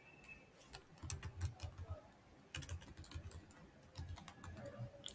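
Fast typing on a computer keyboard, soft close key clicks in irregular bursts with short pauses, faint and without talk.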